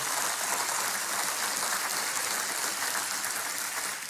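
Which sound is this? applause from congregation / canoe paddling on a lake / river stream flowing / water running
applause from congregation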